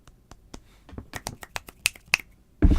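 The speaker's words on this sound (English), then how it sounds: "let's give a nice little Dumbledore clap" About a dozen sharp finger snaps, scattered and uneven, some close and crisp, in a quiet room, offered as a small celebratory gesture; a louder rustle or burst of noise comes at the very end.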